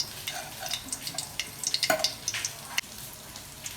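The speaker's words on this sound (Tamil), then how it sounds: "ரசம் தாளிக்கிறதுக்கு ஸ்டவ்வில் கடாய் வச்சுருக்கேன்ப்பா." A small spoonful of oil heating in a kadai on a stove to temper rasam, giving a close, steady fizzing crackle with scattered sharper pops.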